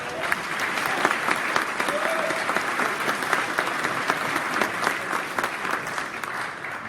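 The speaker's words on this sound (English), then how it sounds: "give yourself a round of applause" A crowd applauds steadily for several seconds, many hands clapping at once in a dense, even wash of sound.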